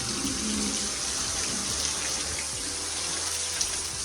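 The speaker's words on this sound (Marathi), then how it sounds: "पाऊस जोरात आणि हवा पण चालू झाली" Heavy monsoon rain with wind in a Konkan coastal village, a dense, even, steady wash of hiss that continues without pause.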